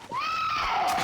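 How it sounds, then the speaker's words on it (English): A zombie in Project Zomboid lets out a cry of fear, a single loud, shrill, rising-then-falling wail lasting about a second, heard close and on its own. "I believe that was a cry of fear sound"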